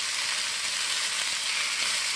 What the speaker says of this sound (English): While I'm holding that, I'm gonna stir these peppers up a little bit.